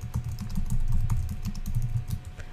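Rapid typing on a computer keyboard, a close, quiet run of light, irregular key clicks with no talking.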